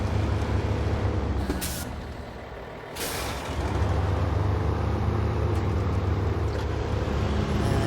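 Heavy truck driving in SnowRunner on the Michigan map, a steady loud diesel engine rumble with a couple of sharp hissing air-brake bursts near the start.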